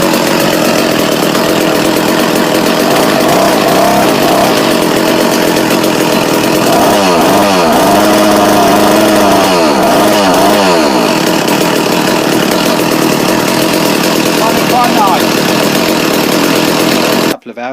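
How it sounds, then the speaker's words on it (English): A chainsaw runs loud and close for about seventeen seconds, holding a steady high rasp with a brief dip and rise in pitch midway, then cuts out abruptly at the end. "The chainsaw, what I show you a clip of running"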